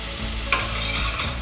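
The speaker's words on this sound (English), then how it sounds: "Now we have our pan that is medium hot with extra virgin olive oil. I'm gonna add my onions first." Onions hit medium-hot extra virgin olive oil in a pan with a sudden loud sizzle that swells and holds steady, with a spoon stirring and scraping underneath; no one speaks.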